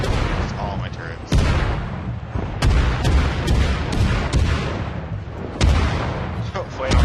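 Warship turret guns firing in World of Warships, playing the Kolberg cruiser: repeated loud booming salvos at irregular intervals over a constant engine and sea rumble, with a voice talking underneath.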